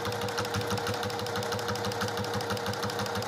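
Domestic sewing machine stitching a quilt block, running steadily at a fast even pace with a rapid repetitive needle chatter and motor hum, close up and without talk.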